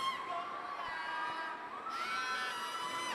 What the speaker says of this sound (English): Crowd cheering for Arcangel.